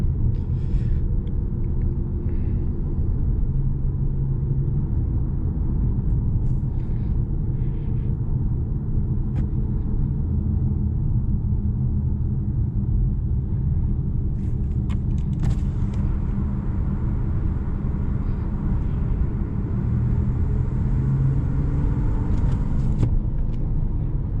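Continuous low rumble of tires and road noise inside a moving Acura MDX SUV, steady and fairly loud throughout with no talking.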